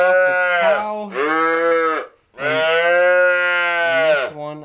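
A calf bawling loudly and close by, two long bellowing calls separated by a brief pause, strong and hoarse with no other sound.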